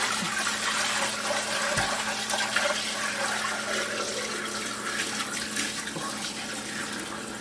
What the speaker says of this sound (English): then I gently start pouring into the strainer.